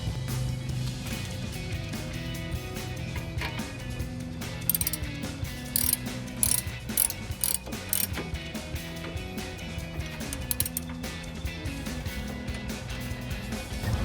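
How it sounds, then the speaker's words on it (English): A ratchet clicks steadily as it tightens a tie rod on a 2007-2018 Chevrolet Silverado 1500 during an upper control arm install, a close run of rapid metallic pawl ticks over a low hum, with louder clusters partway through. "So let's tighten up this tie rod."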